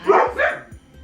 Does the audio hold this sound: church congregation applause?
no